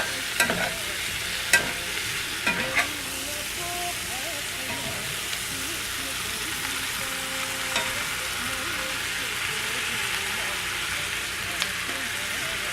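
Tomatoes and potatoes sizzle steadily in a pan for a Nepali potato curry, with a spoon scraping and stirring in a few sharp clacks near the start and scattered light knocks later.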